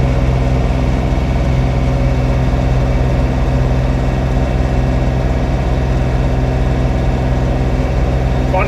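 A John Deere 3046R compact tractor engine runs steadily at about 1600 RPM, a loud, constant low droning hum with a rough, even tone throughout, no clear voices.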